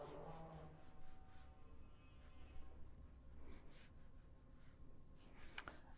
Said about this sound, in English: I'm also going to draw the far side wheel because we're effectively drawing a pair of cylinders.